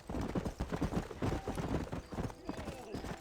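Horse hooves clip-clop in the video game Red Dead Redemption, a steady rhythmic trot of muffled thuds at moderate level, with faint voices and other game sounds underneath.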